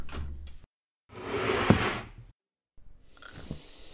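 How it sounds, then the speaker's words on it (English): A hotel room door in the horror game Room 202 swings and thuds shut, one close, solid sound set apart by brief silences, with softer rustling movement before it and after it. "I should probably close the door."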